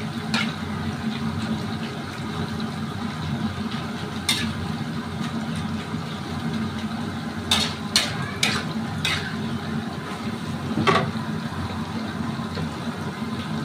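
Cassava chips fry in hot oil in a wok, a steady bubbling sizzle broken by a few sharp pops and clinks, with no talking.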